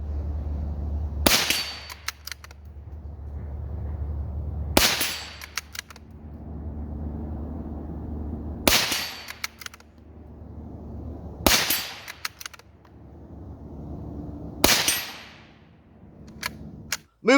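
Five sharp rifle shots from a Savage 93 R17 in .17 HMR fired from shooting sticks outdoors, each a loud crack with a short echoing tail, spaced a few seconds apart over a low steady background rumble.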